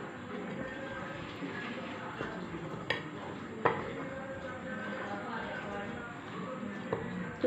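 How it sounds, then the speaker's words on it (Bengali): Dry flour, gram flour and turmeric are being stirred together in a bowl for an eggless omelette batter. Soft scraping and a few sharp spoon-on-bowl clicks sit over a steady low background. "এরপর শুকনো উপকরণগুলো আমি ভালোভাবে মিশিয়ে নিচ্ছি।"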